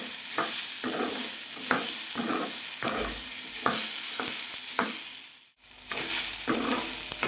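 Onion fries in oil for matar paneer masala, sizzling softly under repeated rhythmic scraping strokes of a spoon stirring in the pan. A brief lull comes midway before the stirring resumes.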